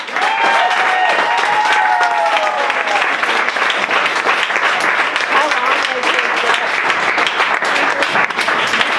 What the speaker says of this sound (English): Everybody please give a big round of applause to Aaron Torres.